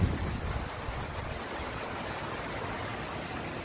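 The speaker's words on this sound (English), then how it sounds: "It's getting really windy out there." Wind blowing steadily outdoors, a continuous broadband rushing roar with a low rumble, stronger for a moment at the start.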